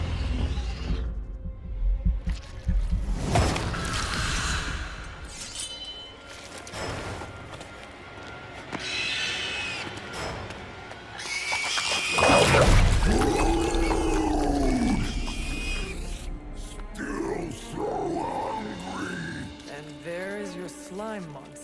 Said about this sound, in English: Slime monster.